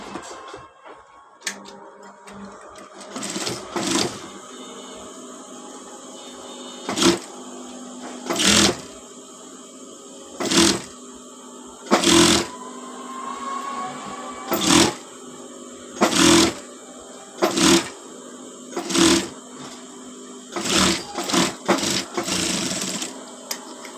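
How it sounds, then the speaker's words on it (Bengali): A sewing machine stitches a lightly folded sleeve, running in about a dozen short mechanical bursts with a fast whirring rattle, separated by quieter pauses, close and loud with no talk. "আমি ফার্স্ট এটাকে হালকা করে মুড়িয়ে একটা সেলাই দিয়ে নেব"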